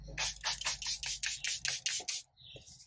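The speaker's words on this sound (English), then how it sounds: "So I'm going to go ahead and give another spray." Setting spray misted onto a face: a run of about nine quick, hissy bursts in steady rhythm, close and fairly loud, followed by a fainter trailing hiss.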